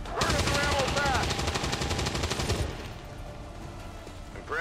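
Automatic weapon fire rattles in a fast, loud sustained burst in XCOM 2, cutting off after a few seconds into quieter ambience, with a brief voice near the start.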